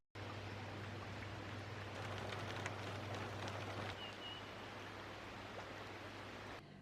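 Steady rain falls at a villa in Bali, a dense, even hiss of drops that carries on without a break, with a low constant hum beneath it.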